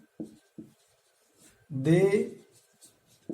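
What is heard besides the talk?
writing on a board during a lecture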